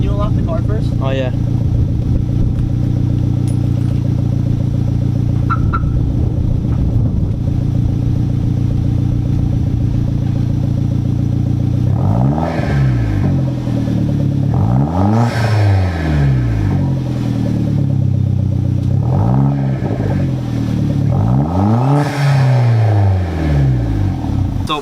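A Hyundai Genesis with an ISR Racing catback exhaust idles with a low rumble, then revs sharply several times in quick bursts, each rising and falling, loud and close.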